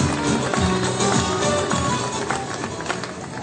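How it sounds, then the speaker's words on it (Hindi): A large crowd at a party unification rally breaks into sustained, loud clapping for women organizers, tapering off slightly toward the end. "भरपूर तालियों में इस्तेमाल कीजिए बाजियों का।"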